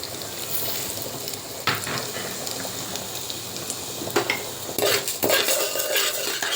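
Cumin and coriander seeds roasting in half a spoon of oil, stirred in a pan, with a light background sizzle broken by sharp clinks and scrapes of a metal spoon against the pan, close and irregular.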